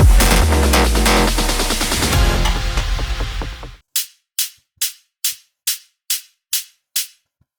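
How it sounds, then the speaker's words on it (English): A dense, loud burst of techno music cuts off, leaving a mid techno kick drum sample struck alone eight times in a steady, even rhythm, each hit short, punchy and clean against silence. "the third one, which is like a mid techno kick and sounds like this"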